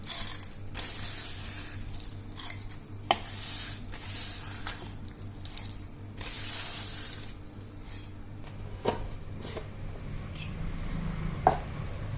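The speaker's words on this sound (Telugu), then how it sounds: "చిన్న మిక్సీలో వేసేద్దాం" A small mixer grinder whirs as it grinds dried turmeric pieces into powder, a steady motor drone with rattling, clattering bits and occasional knocks running throughout at moderate level.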